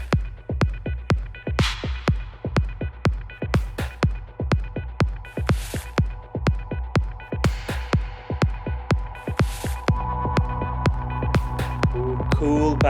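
An electronic track pulses steadily with a regular kick drum, deep bass, atmospheric pads and reverb, the beat driving evenly for the whole stretch and thickening into a fuller, denser bed near the end.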